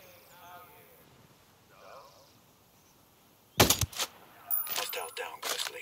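Sniper rifle fire in the Ghost Recon Breakpoint video game on a sniper team recon mission, one sharp loud shot after quiet ambience, followed by a couple more bursts of crackling impact sound.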